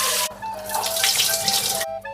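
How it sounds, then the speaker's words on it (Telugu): Lightly roasted moong beans are washed in water, making a loud, close, continuous rush and swish of running water that stops abruptly near the end. "ఇప్పుడు వీటిని నీళ్ళల్లో శుభ్రంగా కడుక్కోవాలి."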